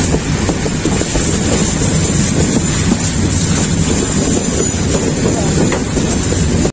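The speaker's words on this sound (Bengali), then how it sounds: "আমাদের ট্রেন এখন কুমিরা রেলওয়ে স্টেশন ছাড়লো" The Chattala Express, a Bangladesh Railway intercity train, pulls out of Kumira railway station, heard from onboard as a loud, steady rumble with wind roar and rattling carriage noise throughout.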